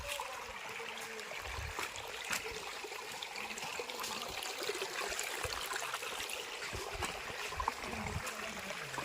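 A hillside waterfall stream flows in a steady, close rushing wash of water that runs unbroken and without voices.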